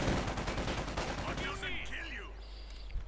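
Rapid bursts of gunfire in Company of Heroes 2 as troops shoot up at the windows of a farm building, dense and loud through the first half and then thinning out under game effects and a faint voice.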